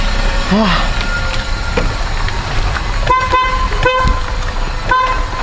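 Several short car horn honks stand out against steady traffic noise, a couple of quick toots followed by a single later beep.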